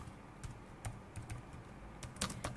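Quiet, irregular keystrokes on a computer keyboard tap out a short line of text, a handful of close clicks with brief pauses between them and no voices.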